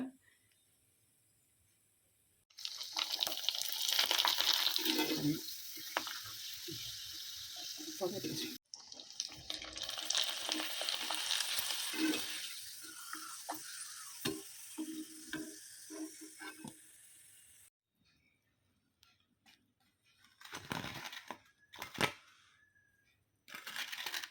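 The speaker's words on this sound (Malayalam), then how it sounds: "നമ്മുടെ ബീട്രൂട്ട് വട്ടിലൊക്കെ നന്നായിട്ട് ഞാൻ വറുത്തെടുത്തിട്ടുണ്ട്" Slices of beetroot for pappadam fry in hot oil, giving loud bursts of bubbling sizzle that stop and restart in long stretches, then give way to quieter gaps and a few sharp knocks.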